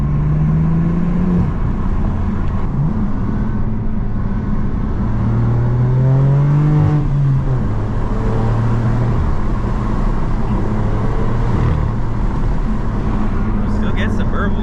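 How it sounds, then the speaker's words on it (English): A BMW M4 F82 with a manual gearbox and AWE switch-path exhaust, valves closed, drives along with a low, steady engine drone rising and falling through gears beneath someone talking, with a brief sharper burble near the end. "If you want to close the valves when you have the AWE exhaust, the switch path, this is what it's going to sound like."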